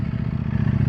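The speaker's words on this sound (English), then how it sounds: "I'm going to come in with the clutch lever, down on the pedal, and I'll give it a bit of revs" A motorcycle engine blipped with revs during a clutch-in downshift, a close, loud, throbbing low engine note pulsing steadily through a brief moment.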